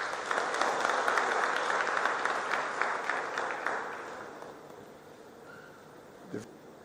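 A crowd applauds at a regional townhall meeting and exhibition in Ghana's Northern Region. The dense, steady clapping holds for several seconds, then thins and fades out, with a brief thump near the end.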